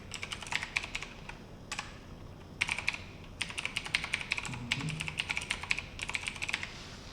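Close typing on a computer keyboard during a behind-the-scenes livestream, rapid clicky keystrokes in uneven bursts separated by short pauses, with a faint murmur in the background.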